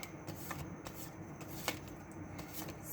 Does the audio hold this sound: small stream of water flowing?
no